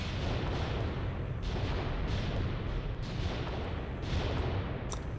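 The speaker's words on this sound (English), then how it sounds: "Very heavy barrage, fortunately too short." A heavy artillery barrage in the war game Graviteam Tactics, loud continuous rumbling with repeated booming impacts landing every second or so, dense and close throughout.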